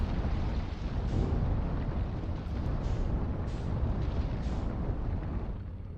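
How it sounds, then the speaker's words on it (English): A deep, continuous roaring rumble of the sun exploding in the Outer Wilds video game, loud and sustained throughout with a broad surging texture and no voices. "I think I hear the sun exploding."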